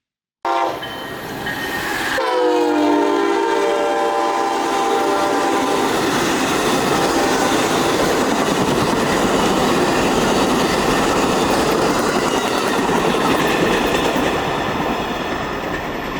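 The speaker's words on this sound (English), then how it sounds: "I tried to get the Amtrak coming the other way out of Tampa" An Amtrak passenger train passing a crossing near Tampa, Florida, its loud horn blaring as it approaches, then a steady roar and rumble of wheels on the rails as the cars rush past close by.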